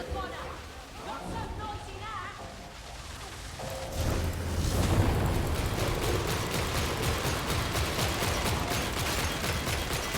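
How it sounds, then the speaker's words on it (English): Gunfire rattles in the Warhammer 40,000: Darktide video game, starting sparse and building into a dense, continuous barrage of rapid shots and blasts, with someone talking over it. "Gonna keep shooting it till it dies, I guess."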